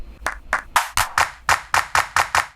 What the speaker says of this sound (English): let's find ourselves a clap sample